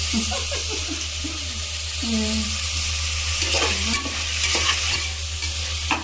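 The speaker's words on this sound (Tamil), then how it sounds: "நல்லா வெங்காயம் வதங்கணும். ஃபுல்லாக வதங்கணும்." Steady sizzling of onions frying in a pan for chicken green biryani, with scraping stirring strokes and a few voices talking faintly over it.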